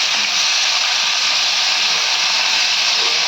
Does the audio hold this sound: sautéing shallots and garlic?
yes